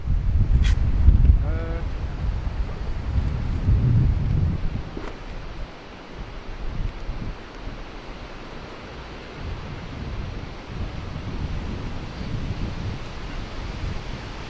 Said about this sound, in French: Ah mais le vent il est immense en fait.